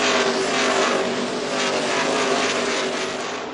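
NASCAR Xfinity Series race cars roar past at Richmond, a dense, loud, sustained engine howl of several cars racing closely together, with no talk.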